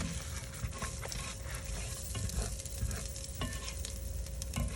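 Scallion whites and a teaspoon of Italian seasoning sizzle steadily in olive oil in a pan, with occasional stirring scrapes over the constant frying hiss, close and fairly loud throughout.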